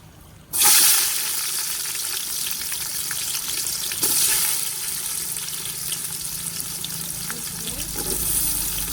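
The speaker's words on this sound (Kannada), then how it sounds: "ಈಗ ಉದ್ದುದ್ದಕ್ಕೆ ಹೆಚ್ಚಿಟ್ಟಿರೋ ಈರುಳ್ಳಿನ ಸೇರಿಸ್ಕೊತಿದ್ದೀವಿ." Sliced onions dropped into hot oil in a pot burst into a loud sizzle, settling into steady frying with a brief stirring clatter partway through.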